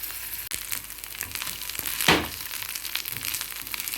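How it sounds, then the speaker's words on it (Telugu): Sago pearls frying in hot oil until they puff up, a continuous hissing crackle close by with a brief louder crunchy burst midway. "ఈ సగ్గుబియ్యం పువ్వులల్లి వేగాలండి, వేస్తే బాగుంటుంది"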